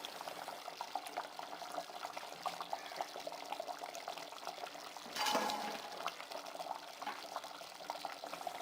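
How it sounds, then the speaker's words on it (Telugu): A Godavari-style fish curry with tamarind juice simmers in a pot, giving a soft, steady bubbling and crackling at low volume, with one brief louder surge partway through. "ఈ విధంగా కుతుకుతామని ఉడుకుతుంది కదా"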